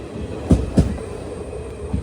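A passenger train rolls past near Cheriyanad railway station in Alappuzha district, Kerala, its wheels striking rail joints in a few heavy thumps over a steady low rumble, with no talk.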